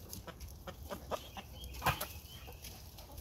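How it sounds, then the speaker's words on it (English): Backyard chickens cluck softly while pecking at pieces of cooked chicken, with quiet scattered clucks, some wing rustling and one louder squawk near the middle, all close by. "Look at these chickens eating chicken."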